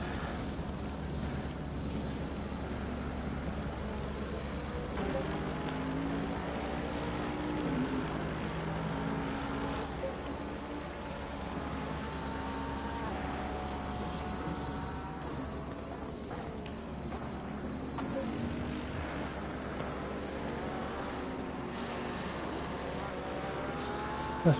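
Multi-class race cars lapping Imola in Assetto Corsa Competizione on PS5 give a continuous engine drone with shifting pitch, one car near and steady throughout, under faint commentary.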